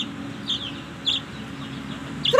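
Chickens clucking faintly in a few short, separate calls over a steady low background hum, with a slightly louder cluck at the very end.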